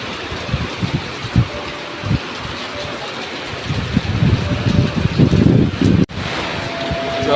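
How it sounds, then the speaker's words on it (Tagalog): Heavy typhoon rain and strong wind in Taiwan roar as a steady broadband wash with gusty surges that build louder toward the end, and a brief sharp dropout near the close. "Lintik na ang ulan guys."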